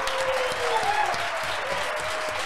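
A studio audience at a TV show applauds continuously and evenly, with a tone sweeping across the crowd noise throughout this short stretch.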